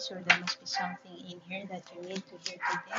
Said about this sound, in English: A dog that is barking,